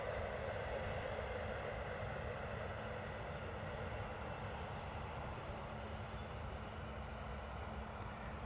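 Ryanair airliner rolling along the runway at London Stansted, a faint, distant and steady engine roar with brief high chirps scattered over it, and no talking.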